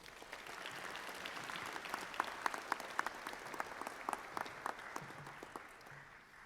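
Steady audience applause filling a graduation ceremony hall as a keynote speaker is welcomed, dense clapping with sharp individual claps standing out, sustained for several seconds without talk.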